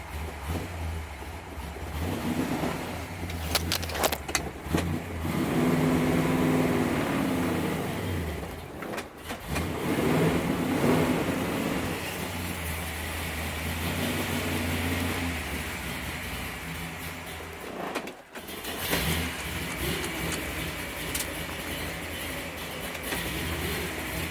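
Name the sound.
engine starting up and nearly idling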